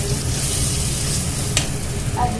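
Chutney with cashews frying in a kadai gives a steady, loud sizzle with stirring scrapes, plus one sharp clink near the end.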